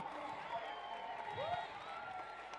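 Spectators at a school race cheer and clap in a steady, moderately distant wash of crowd noise, with individual shouts rising above it and an announcer talking over the top.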